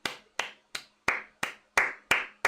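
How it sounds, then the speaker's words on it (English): Slow, evenly spaced single hand claps, about eight sharp close claps in a steady rhythm with silence between, heard while Marmoush comes off during Man City vs Newcastle in the Premier League. "But Marmoush is getting a round of applause, mate."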